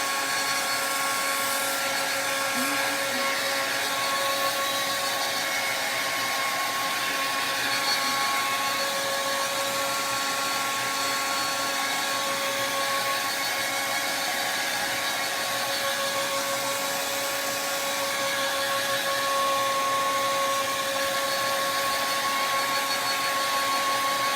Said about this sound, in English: Let's hit that with a blow dryer.